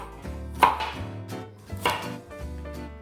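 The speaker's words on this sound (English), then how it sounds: "With a sharp knife, shred your cabbage, tiny sliced carrot." A sharp knife shredding cabbage on a cutting board, two distinct chopping strokes a little over a second apart, close and crisp with quiet pauses between.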